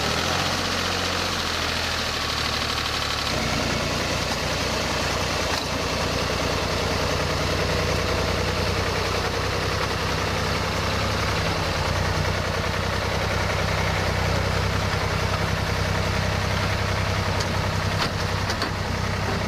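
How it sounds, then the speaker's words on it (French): A vehicle engine warms up and idles. The low, steady rumble runs throughout with slight roughness and vibration, close and constant, with no voices over it. "On va faire chauffer le moteur quand même."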